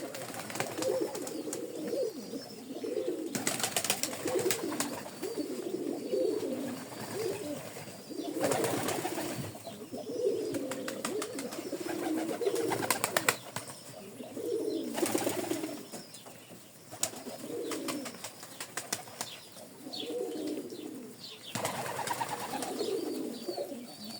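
Pigeons coo in soft, repeated rounds while a mother pigeon feeds her squab, close and moderately quiet, broken by occasional louder bursts of rustling or wing flapping.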